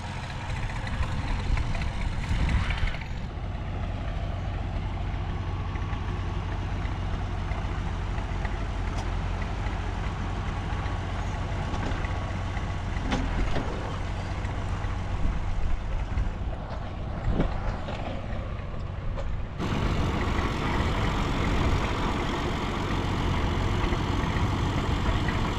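An old tree spade machine runs at an enclosure site, its engine giving a steady low rumble throughout, moderately loud and without talk, with a brief change near the start and a tonal shift late on.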